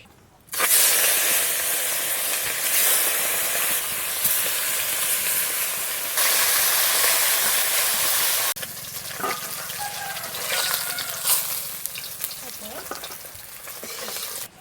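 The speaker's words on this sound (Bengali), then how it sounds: "এবার আমি মাছে লবণ হলুদ মেখে মাছটা ভাজবো।" Lata fish rubbed with salt and turmeric fries in white cooking oil, giving a loud, steady sizzle close up that later eases into softer crackling and bubbling.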